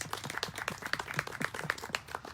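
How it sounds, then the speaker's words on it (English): Attendees at a business luncheon give a quiet round of applause, a faint, fairly fast and even patter of hand claps continuing throughout. "Let's give them a round of applause."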